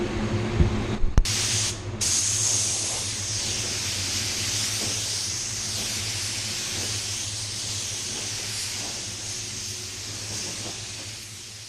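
A sharp click, then a spray gun at 75 PSI lets out a long, steady, loud hiss spraying thick PPG matte clear coat in a paint booth, continuing without a break.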